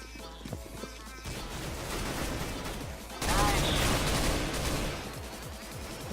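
Rapid gunfire from the video game Counter-Strike: Global Offensive crackles in dense bursts that build louder halfway through, sustained shots overlapping into a continuous barrage.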